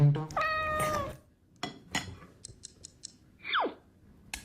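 A cat lets out a drawn-out, harmonic meow up close, followed by scattered clicks and snips and a short, falling second meow toward the end. No one speaks.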